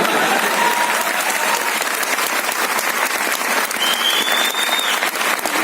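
A seminar audience at a Vestige business meeting in Noida claps loudly and continuously, a dense, steady wash of many hands with no pause and no talking.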